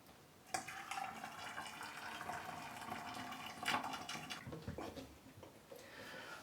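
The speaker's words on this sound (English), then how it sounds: "So here I go, pouring hot water." Hot water runs steadily from a tap into a filling bathtub, a quiet splashing stream with a couple of brief clunks and sloshes along the way.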